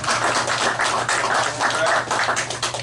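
Audience clapping for a prize winner at a fishing tournament championship awards, a dense, steady patter of many hands continuing throughout, fairly close, with no talk over it.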